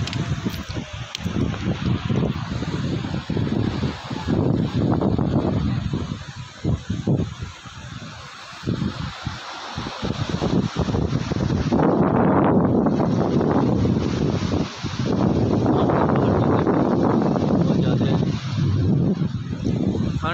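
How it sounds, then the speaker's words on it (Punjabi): Strong, cold wind gusts buffet the microphone on a high mountain road near Rohtang and the Atal Tunnel, a loud continuous roar that swells and dips throughout with no clear speech. "ਬਹੁਤ ਨਜਾਇਜ਼ ਠੰਡੀ ਹਵਾ ਚੱਲ ਰਹੀ ਆ"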